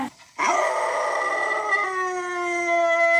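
Rico the dog howls in a recording played on a phone: one long, sustained tonal howl that falls into a steady lower pitch, heard alone and fairly close.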